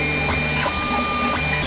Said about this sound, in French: Et l'imprimante vient de se lancer, donc on va aller regarder ça.